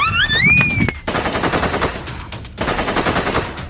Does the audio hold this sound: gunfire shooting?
yes